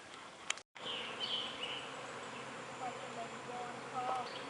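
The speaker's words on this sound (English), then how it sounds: "we sort of got the tail end of the swarm" A swarm of feral honeybees drones outdoors, a steady buzzing hum that fills the air with a brief dropout near the start and faint bird calls over it.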